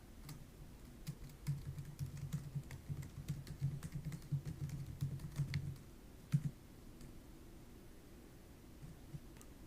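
A command is typed on a computer keyboard in a run of soft, rapid clicks for several seconds, then a few isolated key presses over faint low background noise.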